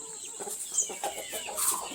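A few short, soft clucks from a rooster close by, spaced unevenly over a steady hiss.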